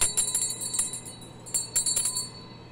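A small hand bell rings in a quiet room, several bright jingling strikes in uneven bursts with short pauses between, close and clear with no talking.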